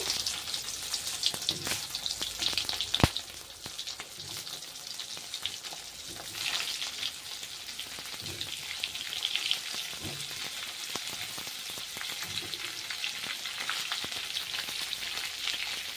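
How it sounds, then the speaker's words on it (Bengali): Pointed gourd frying in hot oil tempered with cumin, a continuous crackling sizzle close by with scattered sharp pops and spatters throughout. "একে একে পটল দিয়ে আমি ভেজে নেব"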